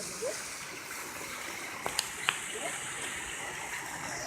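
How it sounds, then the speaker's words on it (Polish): Steady broadband rush of falling water, constant and fairly loud throughout, with a few faint brief clicks and voices barely present underneath. "Taki oto wodospad. Najpiękniejszy."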